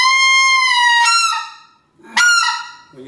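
A Riceland specklebelly goose call breaks over from a long steady high note into sharp cracking yelps, two loud close calls separated by a short silence, the second a quick broken honk, with no talking.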